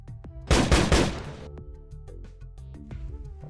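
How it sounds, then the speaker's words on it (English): A bolt gun sound effect plays during a Necromunda tabletop battle: a short, loud burst of crackling shots lasting about a second, followed by quieter clicks and background tones. "He's going to aim and shoot down at Jim."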